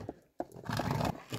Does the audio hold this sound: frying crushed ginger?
no